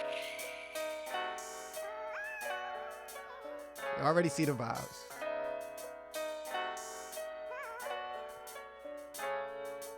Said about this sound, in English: the beat we breaking down today sounds like this